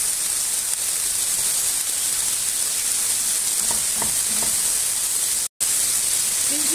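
Walnut-stuffed mushrooms added to a pan of frying eggplant, peppers and onions: a steady, loud, even sizzle with a few soft stirring clinks, briefly cut off near the end.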